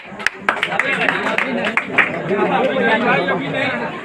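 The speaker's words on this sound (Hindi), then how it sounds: "आप लोग ताली से जरा स्वागत करेंगे" Scattered hand claps break out over loud, constant crowd chatter at an outdoor village gathering, where a wedding-time Ramayana bow-breaking act is being staged with a girl playing Sita.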